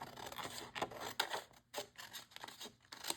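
Scissors snipping through paper while making a handmade hymn journal, a series of short crisp cuts with brief pauses between them, close and fairly quiet, with no talking.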